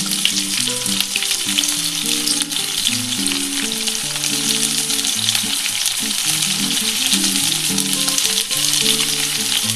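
Ginger-garlic paste fries in a hot pan for chilli paneer, with a constant bright sizzle and occasional stirring under steady background music.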